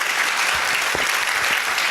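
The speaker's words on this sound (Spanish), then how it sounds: "Vamos a recibir la palabra de nuestro Dios con un fuerte aplauso" Loud, dense applause from a church congregation, a continuous roar of many hands clapping close and full throughout, with no speech over it.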